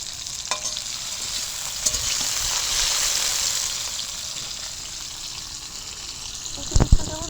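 Tomato and ginger fry in a pan, making a continuous close sizzle with stirring, and a few sharp utensil knocks near the end.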